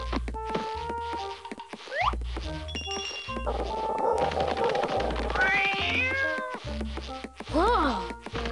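A kitten meows repeatedly in the Chutes and Ladders video game, with several rising and falling mews among thumps, musical game tones and a voice speaking.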